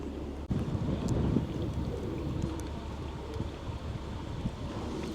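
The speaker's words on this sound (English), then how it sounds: "Quite a windy day." Steady wind buffets the microphone on a narrowboat, a low rumbling roar that holds throughout, with faint water and boat noise underneath.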